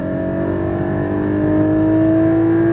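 A Porsche Cayman GT4 engine revs hard on a racetrack lap at Speed Vegas, heard from inside the car as a loud, steady tone that climbs in pitch under acceleration, with no talking.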